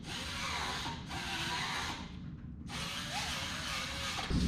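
A carbide burr grinds steel on a cheap Harbor Freight welding cart, a loud continuous whirring rasp in two long passes with a brief lull between them, close up and with no talk.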